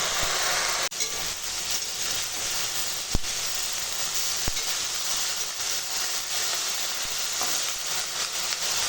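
Water lily stems frying in mustard oil with dried chillies, a steady close broadband sizzle and hiss running throughout, broken by a few sharp clicks and knocks.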